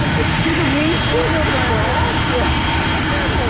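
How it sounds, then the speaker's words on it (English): A jet airliner landing at Atlanta airport makes a loud, continuous roar with broadband wash throughout, while voices talk faintly underneath. "Oh, we got another guy landing."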